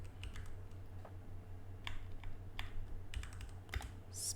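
Quiet computer keyboard typing, with irregular soft key clicks spread across a few seconds over a low background hum, entering a network reset command on a Windows 11 PC.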